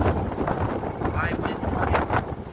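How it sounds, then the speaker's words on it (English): Strong gusting wind of up to 60 mph buffets outdoors in a Newark, Ohio yard during a storm, a loud roaring rush battering the microphone continuously with a voice speaking over it. "Winds up to 60 miles an hour or more"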